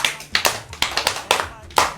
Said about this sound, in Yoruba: Lálá, ẹ pàtẹ́wọ́ fún un